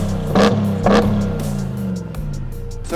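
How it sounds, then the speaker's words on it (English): 2021 Ram TRX pickup with a supercharged Hellcat V8 revving hard twice in quick succession, then settling into a rough, loud idle close by, with a final sharp blip at the end. "Over here we got a 2021 Ram TRX with the Hellcat engine in it."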